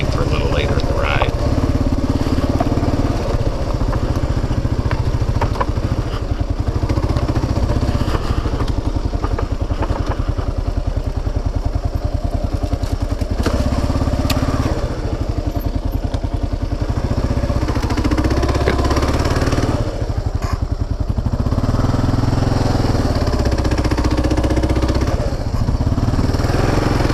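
KLR650 and DR650 dual sport motorcycles riding along a trail, their engines droning loudly and continuously with rumbling and rattling, while a person talks over the noise.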